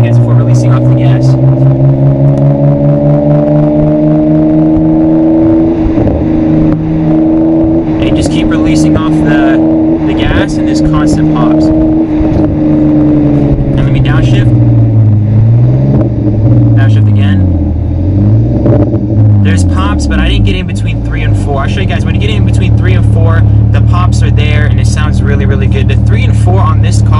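A BMW E90 engine revving repeatedly toward 3,000–4,000 RPM in gear, the loud droning rumble rising and falling continuously with sharp popping bursts of backfire as the throttle is released.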